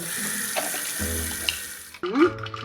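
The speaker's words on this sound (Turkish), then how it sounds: "Ama önce meyveleri güzelce yıkayalım." A kitchen tap runs steadily while fruit is washed under it. The flow cuts off abruptly partway through and is followed by a brief splash and handling sounds.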